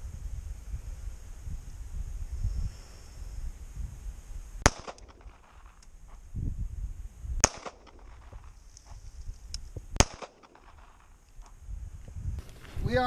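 An LCP Max pistol fires three shots into a meat target outdoors, three sharp, separate cracks spaced a few seconds apart over quiet wind and low rustling.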